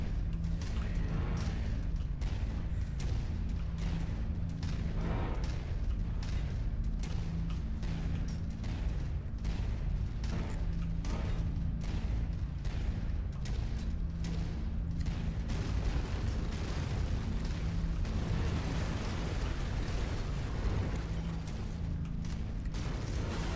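Eight AC-20 autocannons fire in bursts at a turret from a King Crab mech in MechWarrior 5: Mercenaries, rapid repeated heavy thuds and booms over a constant low mechanical hum, fairly faint.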